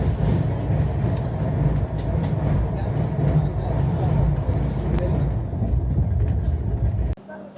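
The 22642 Shalimar Trivandrum Express runs on through Andhra Pradesh, a steady, loud rumble of wheels and carriage noise holding for about seven seconds before cutting off abruptly near the end.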